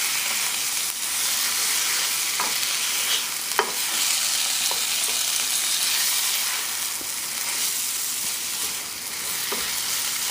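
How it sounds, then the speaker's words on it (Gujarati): Steady frying sizzle from a pan on the stove, with a spoon stirring through a Gujarati saak-style mixture, soft scraping strokes scattered across the hiss at a constant close level. "ને બસ આપણે ખાલી આને ફરાવી કે બધું મિક્સચર ફાઇન રીતે મિક્સ થઈ જાય"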